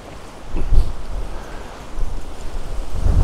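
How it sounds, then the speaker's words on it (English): Wind gusting across a motorhome site in Spain, a low, rumbling buffet against the microphone that swells around the first second and again near the end, with no other sounds nearby. "The loudest thing here at the moment is me in the wind."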